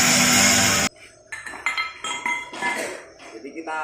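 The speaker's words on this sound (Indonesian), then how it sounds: "Jadi kita bisa pakai palu untuk yang misalkan belum rata, masih ini supaya rata bagus." A hammer knocks on the bent steel plate of a 14-ton CPO tank to flatten it. A loud burst opens the sequence, followed by a string of sharp metallic clanks at an uneven pace, close by.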